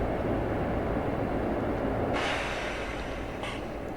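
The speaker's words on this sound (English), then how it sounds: "There's a northern train going out," A Class 142 diesel train rolling through the Train Sim 2020 simulator on the approach to Huddersfield, a steady loud rumble of engine and wheels with a brighter hiss breaking in partway through.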